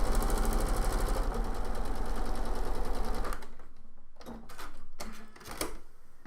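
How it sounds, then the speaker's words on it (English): A sewing machine stitches a quarter-inch seam across fabric squares: a loud, rapid, steady mechanical chatter runs for about three seconds, then stops and gives way to a few short, separate bursts of stitching. "to sew 1/4 inch the other side as well."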